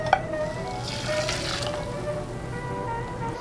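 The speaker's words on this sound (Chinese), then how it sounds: "还是小火，然后一定要不断的搅拌" Egg and starch mixture stirred continuously in a pot over low heat, a soft steady swishing and bubbling with a single light clink at the start, close and moderately loud.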